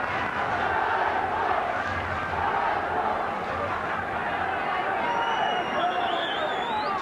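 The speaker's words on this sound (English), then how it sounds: "Great roars from the crowd" A football crowd at a Glentoran v Steaua Bucharest match roars steadily after a corner kick is awarded to Glentoran, a dense, continuous wash of voices with whistles rising near the end.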